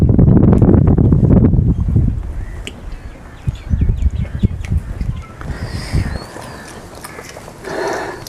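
Wind gusting across open water at a boating club near the sea, a loud rush of microphone wind buffeting at first, then easing into a softer steady breeze with faint bird calls.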